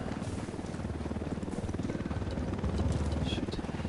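A helicopter in the tactical shooter Ghost Recon Wildlands, its rotor thumping in a fast steady pulse with a low mechanical drone, moderately loud and continuous throughout.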